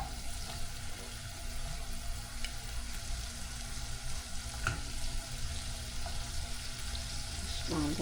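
Meat and buttered vegetables for pork bistek browning in a pan, a continuous soft sizzle with faint clinks of stirring and a brief thin tone near the end.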